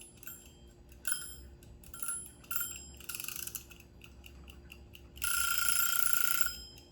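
A kitchen timer for baking ringing in several bursts, with short bright metallic rings at first and then a longer sustained ring near the end, heard alone.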